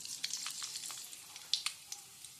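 Mustard seeds crackle and sizzle in hot oil in a home kitchen, a steady high hiss broken by scattered sharp pops, quiet and close, with no talking.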